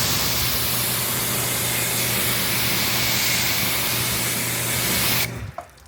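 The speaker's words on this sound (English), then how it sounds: "So I'm going to apply it the way where we spray." Steady, continuous hiss of a spray bottle misting detailing spray onto a truck close by for about five seconds, then it stops abruptly.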